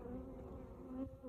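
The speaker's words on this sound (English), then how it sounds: "the bees are finding pollen still, or this hive is" Honeybees buzzing at a hive on a sunny day in late October, a soft, continuous drone, quiet and steady with slight swells in pitch.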